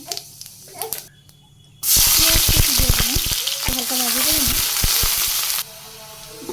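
Onions and green chillies hit hot oil for a fish chorchori, bursting into a loud, close, steady sizzle after a quieter start, with scraping stirs cutting through the frying before it abruptly drops away near the end.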